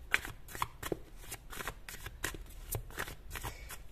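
A deck of tarot cards being shuffled and drawn up close, with quick papery riffles and flicks repeating in a brisk, uneven rhythm. No voice is heard.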